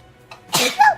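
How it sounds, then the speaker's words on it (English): One sneeze, heard close up: a short breathy catch, then a loud explosive burst that trails off into a brief voiced tail. "Oh, sneeze."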